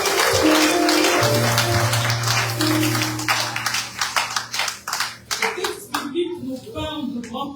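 A church congregation applauds at a graduation service, a dense burst of clapping over a sustained musical tone and voices, thinning into scattered individual claps as it fades.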